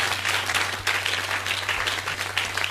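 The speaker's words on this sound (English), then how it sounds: "Let's clap for Jesus for such wonderful appearance." A congregation at an all-night Friday church service claps and applauds steadily, a dense continuous patter of many hands at moderate level with a low hum underneath.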